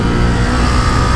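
A Ducati Multistrada 950S motorcycle engine revs loud and close in a brief, full-throated burst with a throbbing low rumble.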